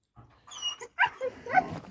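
A West Siberian Laika hunting dog being prepared for field trials gives a quick series of sharp barks and yelps, close and fairly loud, with whiny tones mixed in.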